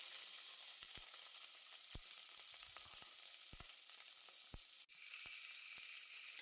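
Chopped and crushed garlic and onion sauté in hot oil for a Tamil elephant-foot-yam tamarind curry. The sizzle is steady and close, with scattered sharp pops and a brief dip near the end.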